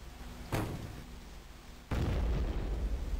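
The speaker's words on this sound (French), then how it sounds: "Bon, on va envoyer une grenade." Two grenade explosions in the video game Shadow Warrior Classic, each a sudden loud booming burst with a rumbling low tail; the first is followed by a lingering rumble, then a second, heavier blast more than a second later.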